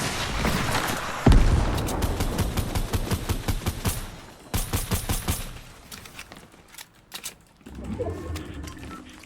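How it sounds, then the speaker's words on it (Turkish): Rapid bursts of gunfire and explosive blasts from a Fortnite Chapter 1 battle, including a rocket launcher, crack loudly in dense volleys, then thin out into scattered shots. "şu roket atla"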